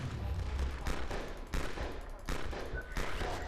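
Repeated bursts of gunfire from an old weapon in Half-Life SMOD, loud rapid volleys in several clusters with short gaps between them.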